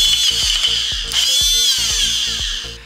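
A Blendjet 2 portable blender churns thick nut butter, its motor whining loud and steady while the blade stutters in a rapid, regular knocking rhythm through the whole stretch.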